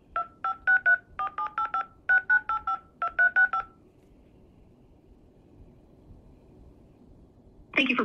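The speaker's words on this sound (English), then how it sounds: "You can either press the digits or speak the number." Telephone keypad DTMF tones entering a card number, about fifteen short beeps in quick clustered groups, then quiet line hiss and a brief final tone.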